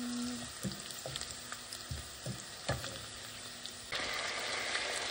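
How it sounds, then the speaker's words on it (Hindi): Chicken frying in a pan with browned onion, a steady crackling sizzle punctuated by sharp stirring knocks and clatters, growing denser and louder toward the end. "जिसमें मैंने चिकन डाल लिया था, चिकन को फ्राई कर लिया"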